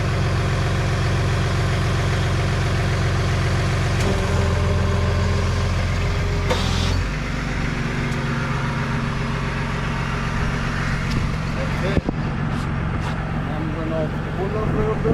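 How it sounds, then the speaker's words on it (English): A raker-style tow truck's winch runs in and out over a loud idling diesel engine; the mechanical drone shifts in pitch and load a few times, with a sharp metallic clunk near the end. "And now we're gonna do winch in, winch out"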